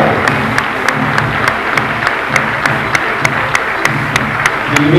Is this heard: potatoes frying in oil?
no